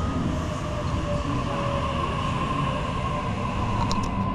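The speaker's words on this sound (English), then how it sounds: "So here's the train." A train pulls into Beecroft station in Sydney with a steady, loud rumble of wheels and motors, a faint high squeal at the end, and no talking.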